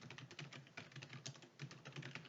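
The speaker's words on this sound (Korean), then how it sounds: "엔터 눌러서" Keys tapped on a computer keyboard while filling in a chart slide during ITQ PowerPoint exam practice. About a dozen quick, faint clicks come in an uneven typing rhythm, close up, with no voice.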